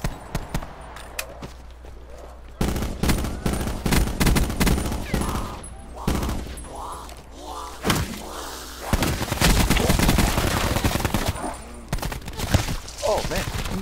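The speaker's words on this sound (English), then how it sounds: "you ran in front of my gunshot while I was shooting the bomb" Heavy sustained gunfire in a Call of Duty: Black Ops 4 Blackout match, dense overlapping volleys and thudding shots that build louder, with players talking over the fight throughout.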